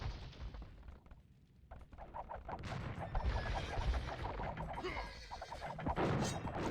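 Bombard cannons firing in an Age of Empires battle, a busy run of thuds and crashing impacts that repeat in quick succession amid general combat noise, moderately loud.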